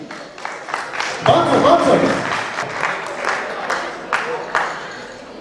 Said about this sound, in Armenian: այդ ծափողջուները նրանց հասեին